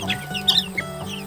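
Young Betong chicks, about two to three weeks old, peep and cluck inside a brooder box in short, bright calls over a steady low hum, close and clear with no talking.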